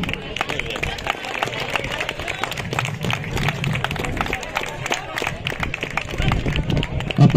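A crowd at an outdoor livestock fair applauds the livestock farmers with steady, dense clapping that lasts throughout, mixed with crowd murmur and voices.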